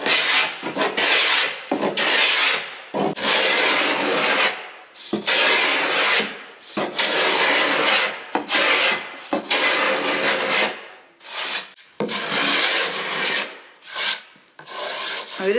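Hand tool rasping wood while roughing out the bevel on a wooden plank for a rowing and sailing dinghy, close, loud scraping strokes repeated in a steady rhythm with brief pauses between them.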